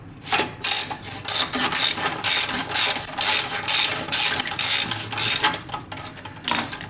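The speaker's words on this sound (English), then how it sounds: "you have to open this clamp here which separates this header from the rest" Someone loosens the exhaust header clamp on a Harley-Davidson V-Rod with a T25 Torx tool, making rapid, repeated ratcheting clicks up close at a steady working rhythm.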